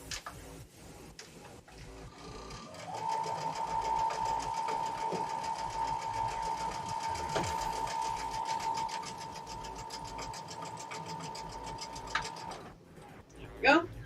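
A home sewing machine stitches quilt block pieces in a steady rapid run of needle clatter lasting most of the moment, with a faint hum and music behind and brief handling noises at the end.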